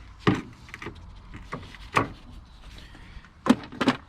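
Pliers working a tight bonnet catch clip off a Mercedes W126 560SEL, several sharp close clicks and scraping snaps spaced irregularly, with quiet gaps between them.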